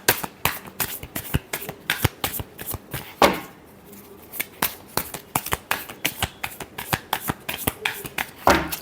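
Cards are shuffled quickly and up close, producing a steady run of sharp riffling snaps with a brief pause midway before the flicking resumes.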